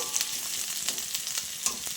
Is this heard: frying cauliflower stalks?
yes